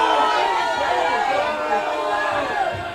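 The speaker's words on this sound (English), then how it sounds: "You hear the crowd not in agreement with the linesman" Spectators at a women's college soccer match between Ottawa University and Bethany voice displeasure at a linesman's call, a loud murmuring crowd roar of overlapping voices that swells and slowly fades.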